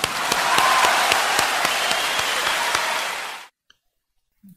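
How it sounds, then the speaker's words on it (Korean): A congregation applauds blessed families at a church worship service, steady clapping for about three and a half seconds that stops abruptly, followed by near silence and a couple of faint clicks. "축하의 박수를 보냅니다"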